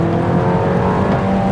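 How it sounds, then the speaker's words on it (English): A 2016 Audi A3 sedan accelerates hard as its turbo spools, giving a loud, steady rising engine roar with a whirring edge, close up and unbroken for a moment. "the turbo spools pretty hard on this car"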